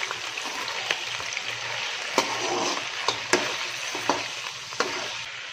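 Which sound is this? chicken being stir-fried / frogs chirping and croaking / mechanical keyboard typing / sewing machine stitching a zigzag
chicken being stir-fried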